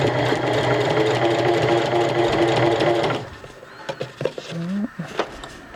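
A sewing machine top stitching a cloth diaper near the snaps runs in a loud, steady whirring burst for about three seconds, then stops, leaving a few soft clicks and fabric handling noises.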